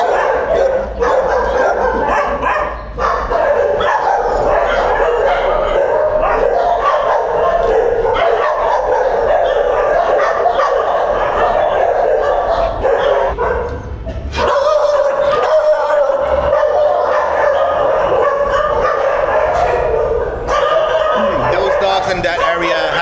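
Dogs in the recovery area of an animal shelter, some of them amputees, bark, yip and whimper almost continuously, loud and close. People talk among the barking.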